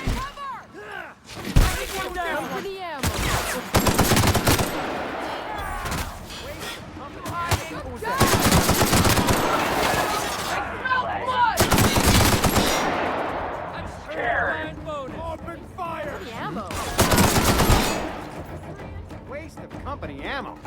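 Repeated bursts of gunfire in The Outer Worlds, loud rapid volleys arriving in several separate clusters, mixed with shouted combat voices and talking between and over the shots.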